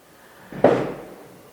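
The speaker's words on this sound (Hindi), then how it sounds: "पटाखा बज रहा है" A single firecracker goes off near a house at night during a neighbouring event, a dull muffled bang with a short decaying tail, heard at a moderate distance.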